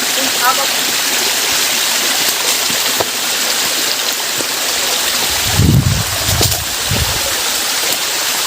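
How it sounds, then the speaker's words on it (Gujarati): Water running down a forest stream near a temple at Kadamgiri, a steady broadband rush throughout with some louder splashing bursts near the end; a voice talks over it at times. "ઉપરથી પાણી આવે છે"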